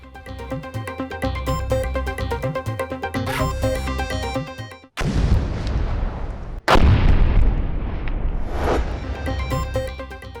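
Music plays, then a sudden loud bomb blast in Lahore cuts in, followed by a second heavy boom with rumbling debris and crackling noise trailing after.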